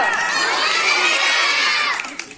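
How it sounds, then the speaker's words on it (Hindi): A room of small children and adults breaks into loud shouting and cheering for the little ones at a Teachers' Day event, a bright, energetic burst that fades out over the final moment. "इन छोटे छोटे बच्चों के लिए जोरदार ताली।"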